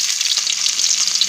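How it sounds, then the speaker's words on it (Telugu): Onions hit hot oil in a pan and fry with a loud, steady hiss and crackle, close and continuous for a brief moment with no talking. "ఇప్పుడు ఇందులో ఉల్లిపాయలు వేసుకుందాం."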